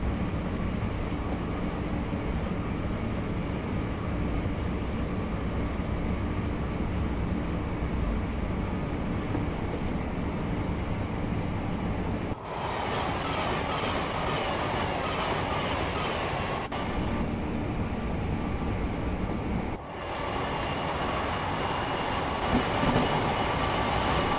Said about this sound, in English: Sounds kind of like a train on AC.